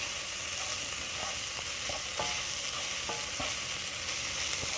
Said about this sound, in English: So now, we're going to stir all that in there.